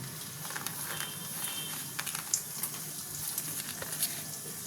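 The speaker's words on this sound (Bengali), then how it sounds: "আমি এখানে কিশমিশটা দিয়ে দেবো ভাজার জন্য" Raisins fry gently in oil, giving a soft, even sizzle with faint crackles and a few brighter pops, close but fairly quiet.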